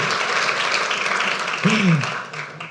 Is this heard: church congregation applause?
yes